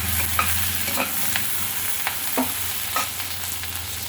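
Small sambar onions and ginger sauté in hot oil for a ginger-tomato chutney, sizzling steadily up close while a utensil scrapes and stirs the pan in short, irregular strokes.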